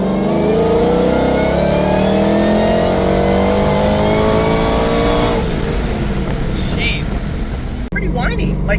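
A Ford GT500 with a supercharger accelerates hard under boost, a loud close-up engine roar climbing steadily with a high, rising supercharger whine over it, then easing off near the end.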